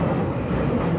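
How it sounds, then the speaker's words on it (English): Interior of a moving London commuter train, with continuous low rumble and rhythmic wheel clatter from close by, no voices. "we are in the train"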